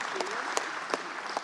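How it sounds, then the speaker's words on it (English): An audience claps for youth male archery finalists at a tournament, a continuous wash of applause with a few sharper individual claps standing out. "Let's give these guys a round of applause."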